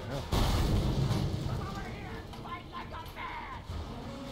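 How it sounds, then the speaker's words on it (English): Explosion blowing open a door in the video game Mad Max, a heavy boom near the start that rumbles and decays over a few seconds, with a player talking over the tail. "explosion is required for this door."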